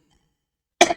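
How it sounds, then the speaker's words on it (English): A single short, close cough bursts out after a near-silent stretch. "excuse me for the coughing"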